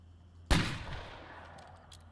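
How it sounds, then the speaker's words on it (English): A single loud revolver shot from State of Decay 2 cracks sharply up close and then fades through a lingering echoing tail over roughly a second and a half. "let's squeeze off a few rounds at these guys and see what it does"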